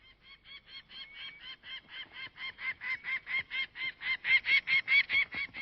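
Geese honk repeatedly in a fast, steady rhythm, growing louder as it goes, clear and fairly close with no talking, on the Russian Arctic tundra.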